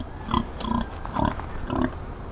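A pig grunts four times close by, short throaty snorts spaced roughly half a second apart.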